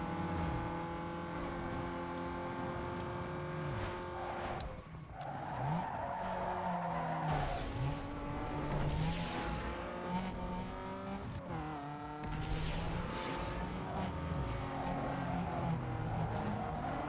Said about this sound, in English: Well, that's Subaru spun out.